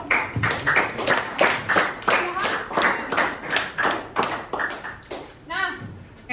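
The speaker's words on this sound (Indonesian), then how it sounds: "Oke, tepuk tangan untuk kelompok 2." Classroom applause for a student group in a high school sociology lesson, a small set of hands clapping in a loose rhythm close to the listener, with some talk mixed in.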